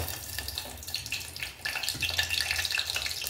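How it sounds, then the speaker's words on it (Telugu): Cut Indian gooseberries (amla) crackle and sizzle in hot oil, a soft, continuous frying hiss with scattered pops heard close up, no talking. "ఆయిల్ అయితే వేడెక్కింది ఫ్రెండ్స్. ఇప్పుడు దాంట్లోకి మనం ఉసిరికాయలు వేసేసుకుందాం"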